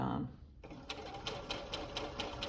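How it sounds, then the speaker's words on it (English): Sewing machine stitching a woman's button-down blouse, with a brief voice at the start, then close, steady rhythmic stitching pulses. "I'm sewing this from the flat side, but every now and then I take a look to make sure that the underside is smooth"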